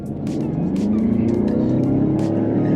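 A 2021 Mazda CX-9 SUV engine rises in pitch as it accelerates, its exhaust growling loud and close with a few short crackles over the rumble.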